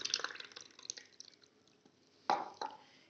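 Soaked basil (sabja) seeds and gond are poured into a container of water: a faint trickle, then two distinct splashing plops close by, with no talking.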